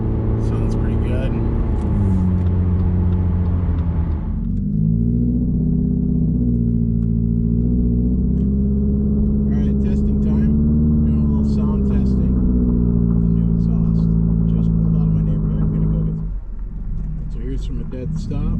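Subaru XV Crosstrek with a muffler delete cruising at 60 mph, its exhaust a steady, loud droning rumble with a mid-pitched engine note that holds even throughout, close and continuous under road noise.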